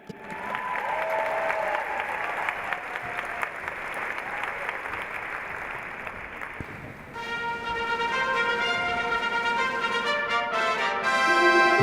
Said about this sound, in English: let's give a big round of applause for our amazing faculty and staff